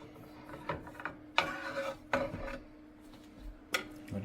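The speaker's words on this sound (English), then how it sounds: "Let's cut a slice." Knife sawing through a slice of freshly baked sweet bread from a bread maker, a few close rasping strokes with pauses between them, crumbly scraping and soft clatter on a board.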